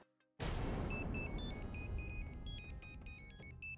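Mobile phone ringtone in a house: an electronic melody of high repeated beeping tones that starts abruptly and keeps ringing over a hissy background.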